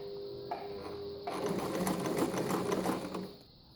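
An Empisal sewing machine running a zigzag stitch with a twin needle, a steady close mechanical whir with rapid needle chatter that rises and then winds down.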